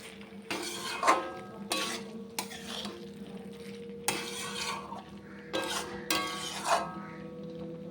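Mixed vegetables stir-fried in a pan, heard as bursts of scraping and stirring spatula strokes with metallic clinks and a soft sizzle between them, close and moderately loud.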